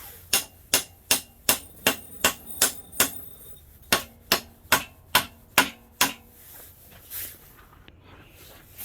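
A hammer taps a rust-stuck part about fifteen times: sharp, evenly spaced metallic strikes in two runs with a short pause between them, close and clear, with no talking.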